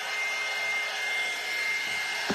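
A dryer blows a steady, loud whirring hum over a painting in progress, continuous throughout and ending with a small knock.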